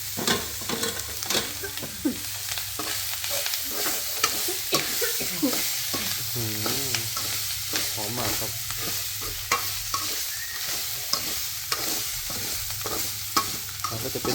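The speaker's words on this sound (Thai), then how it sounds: "นี่ครับปลาไหลที่เราลวนไว้ครับเอาลงไปผัดเลยนะครับ" Continuous sizzling and frying as eel is stir-fried in a wok, with repeated scraping of a spatula against the wok, steady and close, no voices.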